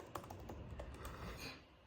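Quick bursts of clicking keys on a computer keyboard, irregular keystrokes typed close by over a steady quiet room background, with no voices.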